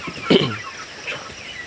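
A single short cluck from a Tiger-breed rooster, close by, followed by a softer trailing call.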